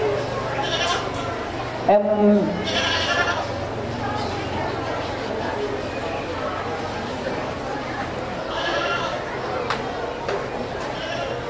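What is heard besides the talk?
meat goats bleating at a county fair goat show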